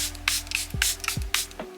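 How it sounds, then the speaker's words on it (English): Charlotte Tilbury Airbrush Flawless Setting Spray misted from a pump bottle, three quick close hissing bursts in an even rhythm, each followed by a soft click of the nozzle, with no talking. "Of course, the Charlotte Tilbury Airbrush Flawless Setting Spray."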